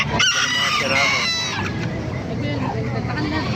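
Bantam chickens at a Baliuag market, with a rooster crowing loudly up close and hens clucking around it in a busy, noisy setting, plus a voice faintly in the background.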